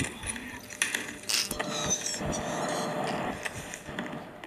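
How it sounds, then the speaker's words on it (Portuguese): The Green character in the Rainbow Friends video game makes a mechanical ratcheting, gear-like clicking noise. The sound runs as a dense rattling texture at moderate loudness, with brief louder bursts. "Barulho do Green"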